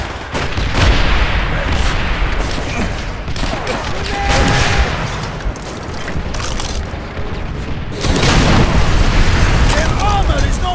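Rocket and explosion blasts hit tanks in the World War II shooter Call of Duty: World at War, heavy booms and gunfire crackle up close, with shouted speech over the battle.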